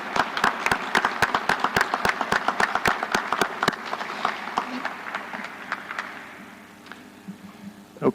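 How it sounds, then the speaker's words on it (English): A city council meeting breaks into a round of applause, a room of clapping hands that is dense at first and then thins out and fades over several seconds, with faint voices underneath. "the rest of council would join me at least in giving her a round of applause for a job well done"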